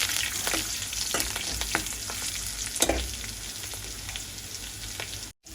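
Curry leaves, garlic and chilli powder sauté in a pan, giving a steady close sizzle with repeated scraping stirs and a few sharper spatula clicks, no talking, cutting out abruptly at the end.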